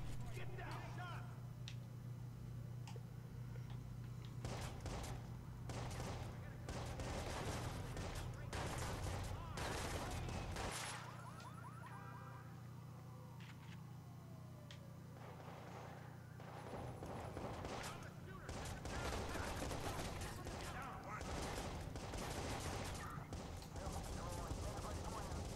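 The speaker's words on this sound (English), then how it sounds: "now I got, like, everybody shooting at me" Overlapping gunfire from many shooters in the Watch Dogs video game, dense crackling bursts and volleys that come and go across the whole stretch, with a few pauses, mixed with game noise and some talk.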